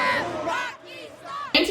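A WWF wrestling arena crowd chants in loud, rhythmic bursts of many voices, with a sharp, louder swell at the very end.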